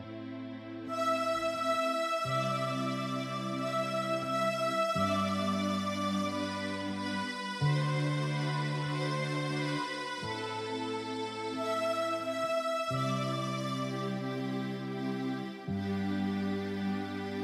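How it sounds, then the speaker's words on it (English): Sustained electronic keyboard chords change every couple of seconds in a steady pattern, sounding bright and even with no talking. "you actually play your chord, your first beat chord, on that first beat. So it sounds like this"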